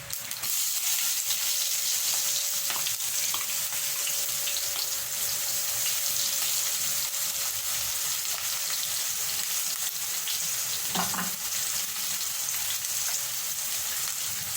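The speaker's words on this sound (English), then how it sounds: "Then I'm going to add my onion." Onion hits hot oil with cloves and cardamom, giving a constant close sizzle and hiss with a faint tonal hum underneath and one brief clatter near the end, with no talking.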